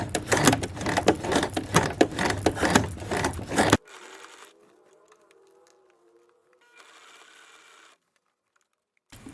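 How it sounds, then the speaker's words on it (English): A sewing machine is hand-cranked through a bulky fabric section while letting out the waist of pants, giving a close run of rapid, rhythmic clattering ticks for about four seconds before everything goes quiet. "I'm just going to hand crank through this bulky section."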